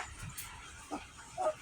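Three-week-old puppies let out faint, brief whimpers and yips, a few soft cries scattered over a low background, close by and quiet.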